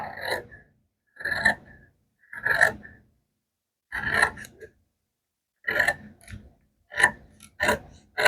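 Scissors or a blade cutting fabric for a two-tone tote bag, a series of separate crisp snipping and scraping strokes close up, each about half a second long, with silent gaps between them.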